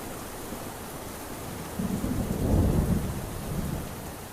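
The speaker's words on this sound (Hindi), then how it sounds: "इतनी तेज बारिश में तो ऐसे क्यों भीग रहा है?" Heavy rain pours steadily with a deep rumble of thunder swelling in the middle and fading, loud and close, with no voices.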